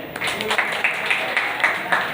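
Students clapping together in a classroom, a steady run of about a dozen evenly spaced claps at moderate loudness, with a faint voice underneath.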